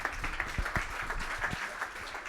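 Audience at a live community tech event clapping to welcome a presenter, a fairly faint, continuous patter of many hands with a few sharper claps standing out.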